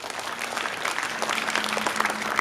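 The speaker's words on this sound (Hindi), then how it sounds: "चलो अपने लिए जोरदार तालियां बजाओ सारे बच्चे" Schoolchildren applaud loudly together at a school gathering, a dense, steady wash of many small hands clapping that holds evenly throughout without pause.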